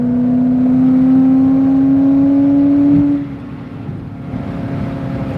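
A car engine revs hard as the driver floors it while accelerating, a loud sustained drone with a rising whine that holds for three seconds, then drops off and settles into a quieter, rougher engine rumble.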